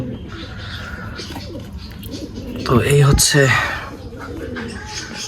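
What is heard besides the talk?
native pigeons cooing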